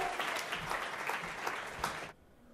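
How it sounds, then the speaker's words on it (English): An audience claps steadily at a live comedy-style storytelling show, the applause fairly close and even, then cutting off abruptly near the end. "So please applaud both Lauren and the trailer for The Empire Strikes Back."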